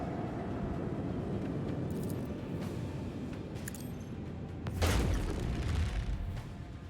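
Torpedoes self-detonate in the space battle game Warhammer 40,000: Rogue Trader, a dense low rumble rolling throughout with a heavier boom swelling near the end, no voices over it.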